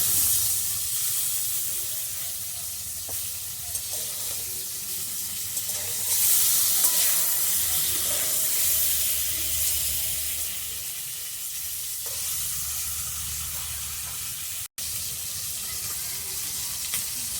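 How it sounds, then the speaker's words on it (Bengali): Snakehead fish lightly frying in a pan gives a steady close sizzle and hiss throughout, swelling briefly with bursts of steam and occasional soft stirring noises. "মাছটা আমি হালকা ভাজছি, মাছটা বেশি ভাজবো না।"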